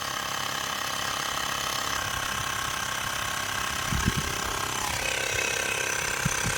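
A portable electric air compressor runs steadily while inflating a tyre from about 18 to 35 psi, giving a constant mechanical drone with a rapid ratcheting pulse and a few louder knocks near the end.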